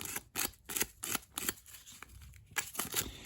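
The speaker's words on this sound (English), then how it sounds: "just get some 60 grit paper and then rough up the surface of this" A brass pen tube being roughed up with 60 grit sandpaper, quick repeated scratchy strokes in an uneven rhythm, close and fairly soft, with no voices.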